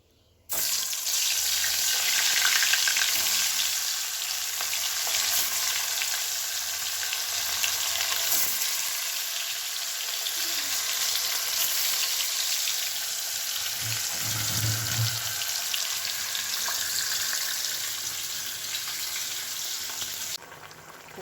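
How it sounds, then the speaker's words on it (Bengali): Fish fry in a wok with a broad, continuous sizzle that holds steady at moderate loudness for about twenty seconds, marked by a few faint clunks and shifts in the frying. "মাছটা ভাজবো, বসিয়ে দিয়েছি"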